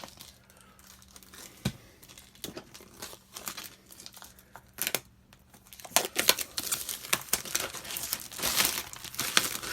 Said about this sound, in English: So we're gonna cut this open and get the plastic off.